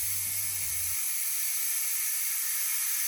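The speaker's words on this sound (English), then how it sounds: "air's passing in through here, and it's coming out through the valve" Compressed air hisses steadily through the valve of a Pnu Point mortar gun, a constant broad airy rush that fills the whole stretch, with a brief low thump at the start.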